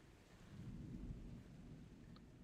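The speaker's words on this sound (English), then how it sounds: "I can hear the intense howling of the storm." Storm in the game Remember The Flowers: a low, rolling rumble of thunder swells and fades over a steady wash of rain and wind, fairly faint and with no voices.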